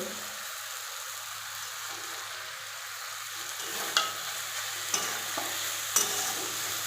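Ground spices are stirred into a lentil mixture frying in a pan for lentil paratha, under a continuous hissing sizzle, with a few sharp scraping clicks of the spoon against the pan near the end.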